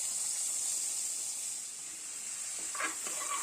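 Three or four cloves and a few pieces of cinnamon stick fry in hot oil for a Tamil chicken kulambu, giving a steady, even sizzle throughout with a couple of faint crackles near the end and no talking.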